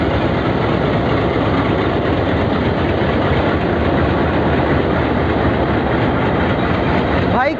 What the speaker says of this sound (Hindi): ये जा रहे हैं ट्विन एल्को, देख रहे हो WDM3D 11410 इंजन का नंबर इसका